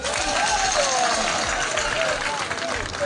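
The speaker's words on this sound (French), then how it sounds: "Vous pouvez vous applaudir très fort." A crowd at a political gathering of the RHDP party applauds loudly and continuously, a thick wash of clapping and cheering that holds steady throughout.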